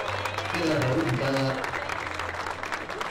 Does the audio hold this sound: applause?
yes